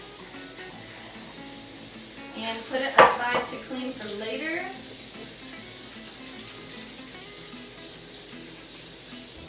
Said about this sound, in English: I'm gonna rinse this out with some hot water